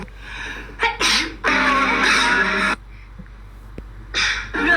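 A few loud, explosive bursts like sneezes, separated by short pauses, close to the listener with some background noise.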